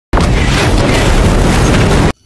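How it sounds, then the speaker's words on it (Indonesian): A car in a film drives over a landmine and blows up in a single loud, sustained blast that fills the clip and then cuts off abruptly. "Tiba-tiba mobil mereka menginjak bom ranjau dan meledak hingga mobil mereka jungkel."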